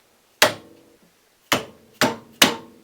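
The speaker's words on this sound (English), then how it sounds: "I just hammered them into place on each side" A mallet hammering greased collars into a Polaris RZR 800 rear outer bushing: four sharp, close metallic knocks, the last three in quicker succession, each decaying quickly into quiet.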